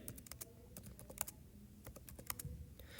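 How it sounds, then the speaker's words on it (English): Keys on a computer keyboard are typed in quick irregular bursts of soft clicks while entering values into Desmos, close and fairly quiet with no talking. "I type them all in, double checking that I do not have a typo along the way."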